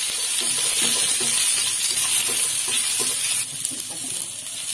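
Sliced onions fry in ghee for paneer pulao, a loud, steady sizzle with bursts of stirring and scraping in the pan that soften near the end.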